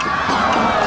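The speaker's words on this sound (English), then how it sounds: "Lots of people are cheering him." Crowd of people cheering and shouting together, a short burst of excited voices and whoops.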